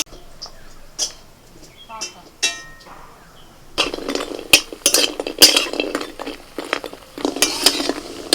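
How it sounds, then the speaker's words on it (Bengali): Lentil vadi frying in mustard oil in a wok, with spoon clinks and stirring scrapes over a hot oil sizzle, and a voice speaking in the first half. "কড়াইতে সর্ষের তেল দিয়ে দিয়েছি এখন তেলের মধ্যে দিয়ে দিচ্ছি বড়ি"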